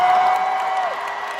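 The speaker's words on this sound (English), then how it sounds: "Just cheer for Charlie Cox" Audience cheering and applauding for Charlie Cox, a short burst of dense clapping and crowd noise that starts loud and eases slightly.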